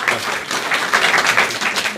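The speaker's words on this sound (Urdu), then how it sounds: "بھرپور تالیاں ہونی چاہیے" Audience applause at an Urdu mushaira poetry evening in London, dense steady clapping from a seated crowd for a couple of seconds, moderately close with no talk over it.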